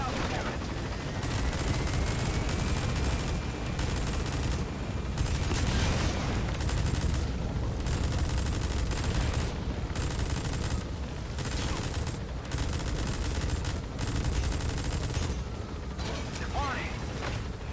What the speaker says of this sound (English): Just shooting random explosive barrels on the way out